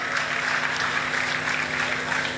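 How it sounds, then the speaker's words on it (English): Applause from the gathered ex-students and guests at a school centenary reunion fills the hall as a steady, even wash of many hands clapping together at moderate volume. "a big round of applause for all of you to make it"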